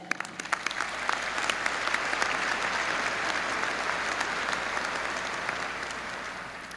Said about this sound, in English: please share with me in applauding the faculty for their service to OSU